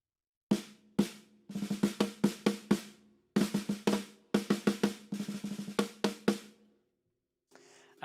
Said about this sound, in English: And then finally with the big fat snare drum to dampen it further